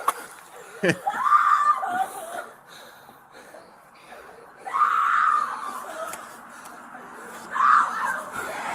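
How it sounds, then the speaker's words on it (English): A woman screams in fear in three separate drawn-out bursts, somewhat distant, with quieter muffled sounds in between. "Somebody's screaming."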